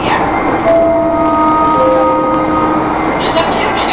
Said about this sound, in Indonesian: Kereta kemudian berhenti di stasiun Chicoya